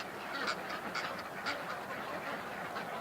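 Ducks call in a steady stream of honking and quacking, a flock nearby and quite loud.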